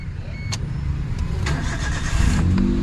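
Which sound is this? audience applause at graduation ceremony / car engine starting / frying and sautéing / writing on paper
car engine starting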